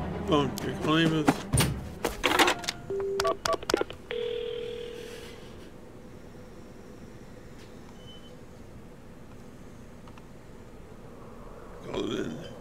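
Telephone dialing to call an ambulance in the Paranormasight game: a burst of quick keypad beeps and tones near the start, then a long quiet hiss with a faint noise at the end.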